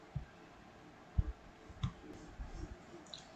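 Mouse clicks while an online student-entry form is filled in on a school portal, a few soft, sparse clicks spread irregularly over a quiet room background.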